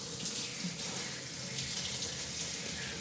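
A kitchen faucet runs steadily to rinse a new PUR water filter cartridge, a continuous close, even splash of flowing water with no speech.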